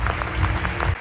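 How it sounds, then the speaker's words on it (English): Audience applause greeting Ukraine's Deputy Minister for Youth and Sports at a European sports gathering, a brief, even burst of many hands clapping, fairly loud and close, with no speech over it. "A warm round of applause."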